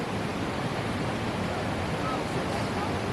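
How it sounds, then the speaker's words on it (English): Water gushes from a dam's waterfall among rocks in New England, a dense, loud, unbroken roar filling the whole stretch with no pauses. "The water is gushing out."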